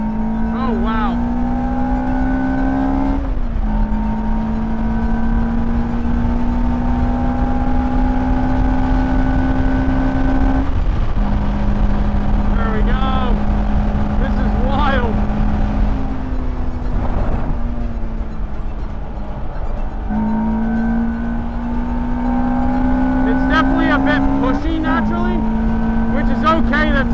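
A Lotus Elise sports car laps a race track, its engine droning loud and close in a sustained in-car tone that climbs through each gear and drops briefly at every shift, with a voice talking over it.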